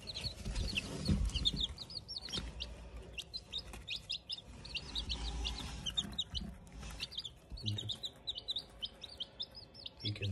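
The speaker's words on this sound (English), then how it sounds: "You can see all the mixed breed of fancy poultry chicks are in there." Freshly hatched mixed-breed fancy poultry chicks, including silver lace, Pekin bantam, light brahma and Japanese bantam, in an RCOM MAX 20 incubator. They keep up dense, high, overlapping peeping over a low rumbling hum.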